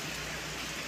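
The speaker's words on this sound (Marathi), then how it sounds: "मस्त यायला लागलं पाऊस" Rain falls outside a house in a steady, soft wash of broadband patter, faint and even throughout the short moment with no voices.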